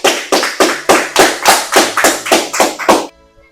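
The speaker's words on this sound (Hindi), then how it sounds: "आप लोग खुद के लिए भी ताली बजा सकते हैं" Students clapping together in a classroom: about eleven sharp, evenly spaced claps in a steady unison rhythm, close and loud, ending abruptly.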